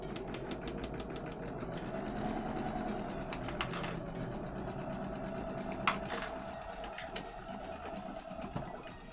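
A sewing machine runs steadily while stitching around the fabric edge of a No Face plushie, a continuous close mechanical whir with a few small clicks, and no speech.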